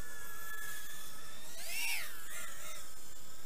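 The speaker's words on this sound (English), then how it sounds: "It's flying pretty good. Man, brushless motors." A LANCHI Monster 76mm micro FPV racing drone with brushless motors buzzes nearby with a high whine that swoops up and down in pitch as it accelerates and turns, loud and continuous, with no talk.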